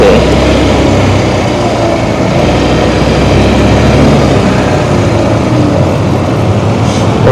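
A retro Honda scooter engine idles close by in a loud, steady, low rumble before it is shut off and parked at a gas station.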